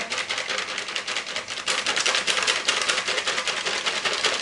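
Rapid, steady scraping and clicking of a whisk beating a pudding powder mixture in a bowl, continuous and close.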